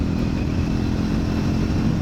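A motorcycle runs along a road in steady, continuous engine drone with low rumble throughout, fairly close and with no pauses or voices.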